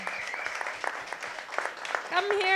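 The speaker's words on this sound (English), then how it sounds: "let's do them a huge round of applause for making this event happen." A crowd at a youth hackathon event claps steadily, the applause mixed with cheering and voices, a whistle or shout rising near the end.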